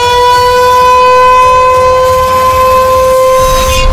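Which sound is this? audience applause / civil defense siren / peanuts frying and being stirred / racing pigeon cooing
civil defense siren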